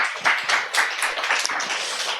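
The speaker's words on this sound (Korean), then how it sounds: "하나님께 박수." A church congregation claps together in a brief burst of dense, fairly loud applause that holds steady for a couple of seconds.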